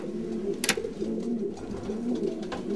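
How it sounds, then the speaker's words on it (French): Homing pigeons coo softly in a low, continuous murmur as one returns from a 400 km race, with a brief flutter of wings partway through. "Voilà, un pigeon qui rentre du concours."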